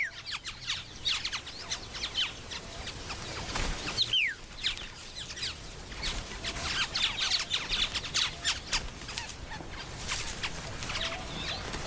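Australian oriole-like birds, males singing together in competition and mimicking other birds, give a busy mix of chirps, squawks and whistled calls over a steady outdoor background at moderate distance.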